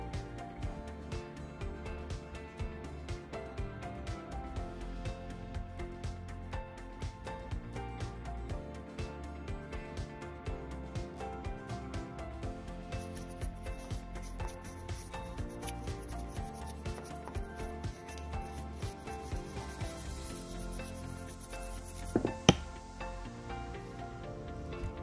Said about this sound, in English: we sand it really.